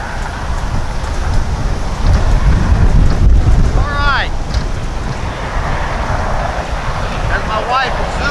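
Wind blowing across an RC plane flying field, gusting loudly into the microphone as a constant rough roar, with a couple of brief chirping sounds in the background.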